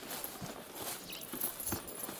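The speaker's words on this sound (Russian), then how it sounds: "Это у нас тут лошадка." A horse walks nearby, its hooves clip-clopping in an irregular rhythm over a constant noisy background.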